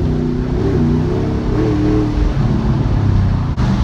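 A RAM 1500 pickup with an aftermarket cam and stall converter accelerates at wide open throttle, a loud close deep engine roar rising steadily in pitch with no talk.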